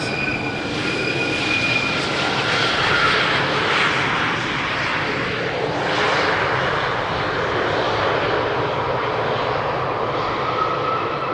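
Jet airliner landing on runway 18R, the Polderbaan, at Amsterdam Schiphol without reversers, a loud continuous engine roar and rushing noise that swells and shifts as the aircraft passes, with no talking.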